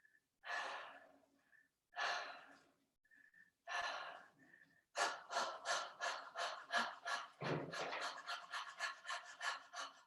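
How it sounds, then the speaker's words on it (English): A woman breathes hard and fast while lifting weights during exercise: a few separate deep gasps at first, then a steady run of rapid, loud panting breaths close to the listener. "she'll let her breathing increase all the more rapidly"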